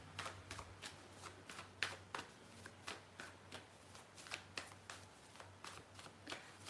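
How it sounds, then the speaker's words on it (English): Tarot cards being shuffled by hand in a steady run of quick riffling bursts, close and fairly quiet, with no talk over them. "But Kim Osborne, I'll pull a card for you, my love."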